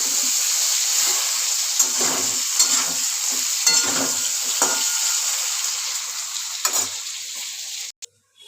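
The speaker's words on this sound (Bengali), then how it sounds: "আলুগুলো দিয়ে ভাজা ভাজা করে নিচ্ছি।" Potatoes and pointed gourd frying together in a pan, a steady close sizzle broken by occasional spatula stirs and clinks, then cutting off abruptly near the end.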